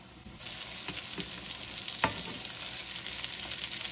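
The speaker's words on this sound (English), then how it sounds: "Burgers. Just a touch of oil to fry in." Burgers fry in a pan with a tablespoon of oil, giving a steady, close hiss of sizzling with occasional pops and crackles throughout, no talking.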